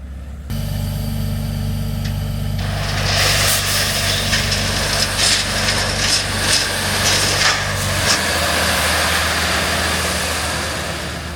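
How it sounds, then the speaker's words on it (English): A truck with a dump trailer idles with a steady low engine rumble, then a long rushing roar as gravel stone slides out for a driveway, the pour steady and close before easing off. "here he's gonna dump this trailer, get rid of it, and then back this guy in here, and then dump it right there as well"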